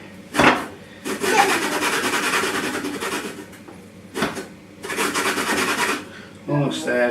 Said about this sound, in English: we're going to zest that half there